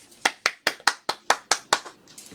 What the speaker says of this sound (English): That one I have actually clapped for.